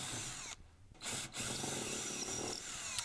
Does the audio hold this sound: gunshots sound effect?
no